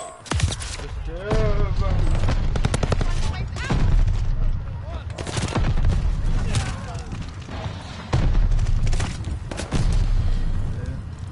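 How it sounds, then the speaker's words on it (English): Dense gunfire bursts and booming incoming shell explosions in the World War II shooter Vanguard, loud and continuous across the battle, with a few sharp whistling tones and a voice talking over the combat. "Enemy shells coming in hot."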